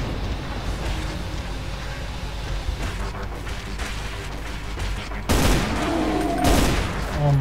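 Dense video-game gunfire from Brutal Doom: Extermination Day, a steady rattle of shots through the whole stretch with louder, harsher bursts near the end.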